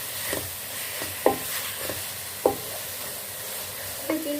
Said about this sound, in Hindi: अब इसमें हम चिकन का कीमा डाल लेंगे। इसको हम अच्छे से मिक्स कर लेंगे।